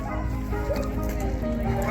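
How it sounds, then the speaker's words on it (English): Young sled dog puppies at a dog sledding camp in the Yukon, Canada, giving short yips and whimpering barks close by over a steady background hum. "it's more puppy time."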